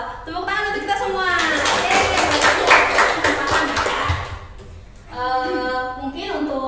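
A class of students claps during a math lesson on hyperbolas, a burst of close, lively clapping mixed with voices and laughter that fades as speech takes over near the end.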